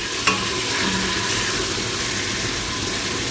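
Frozen pork bones frying in a pan, a loud, dense, continuous sizzle with a single brief clink near the start.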